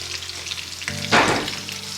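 Blended ginger and bell pepper hits a pan of frying egusi stew with spinach, a steady close sizzle that swells into a loud hiss as it is stirred in, no talking.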